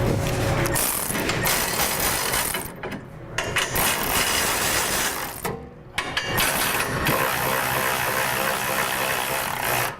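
Power tool running bolts down on a rear bumper frame bracket of a Toyota Tundra, a loud continuous mechanical whirring rattle up close with two brief dips, no speech.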